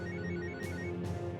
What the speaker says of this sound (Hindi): ये बीप कहां से आ रही है?